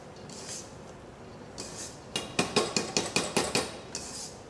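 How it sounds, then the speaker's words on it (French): A whisk or spoon knocks against a bowl while mascarpone is folded into pâte à bombe for tiramisu, a quick run of about eight sharp, close clinks after a few softer scrapes. "Incorporez maintenant le mascarpone dans la pâte à bombe. Nous allons mélanger l'ensemble."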